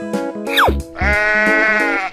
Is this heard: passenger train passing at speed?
no